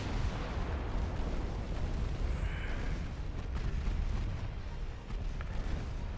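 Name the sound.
naval artillery pounding a light cruiser in Ultimate Admiral Dreadnoughts video game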